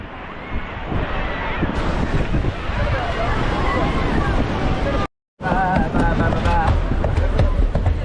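Sea surf rolls onto Panambur beach in Mangalore, a steady, loud wash buffeted by wind on the microphone, with crowd chatter and nearby voices throughout and a brief dropout just past the midpoint.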